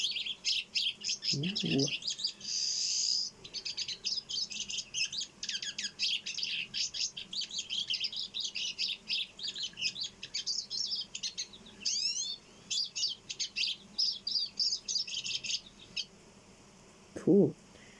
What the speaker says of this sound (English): That was the siskin, tonight's bird.